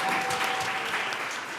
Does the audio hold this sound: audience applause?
yes